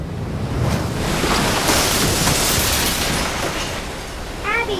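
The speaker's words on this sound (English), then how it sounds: "Soon every wave was surging across the top of Matinicus Rock." Ocean waves surging across Matinicus Rock, a loud continuous roaring wash of surf with wind buffeting the microphone, and a brief faint tonal chirp at the end.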